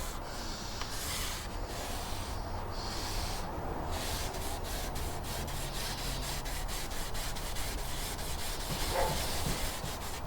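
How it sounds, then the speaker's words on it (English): A rag wipes finish across the wooden cabinet of a Bush VHF64 radio in steady, continuous rubbing strokes, close and even, with no talking. "Tip some in here and just wipe it on."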